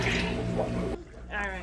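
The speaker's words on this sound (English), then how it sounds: "All I'm going to be doing is squishing it in the water." An aquarium sponge filter is squeezed in a bucket of tank water, giving close, wet sloshing and gurgling bursts with a brief pause between, while a person talks.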